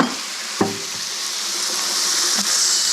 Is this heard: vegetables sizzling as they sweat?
yes